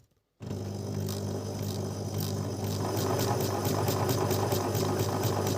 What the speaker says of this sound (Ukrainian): Він не працює, шпулька намотується.